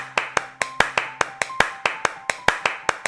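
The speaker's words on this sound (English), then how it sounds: "Start applauding me till I tell you to stop." A steady run of about fourteen evenly spaced hand claps, crisp and close, sounds like applause in a children's story about the little prince and a vain man, with a faint soft tone held underneath.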